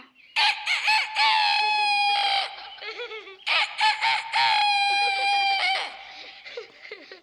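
A voice imitates a rooster crowing, two loud drawn-out cock-a-doodle-doo calls with a short pause between them, up close.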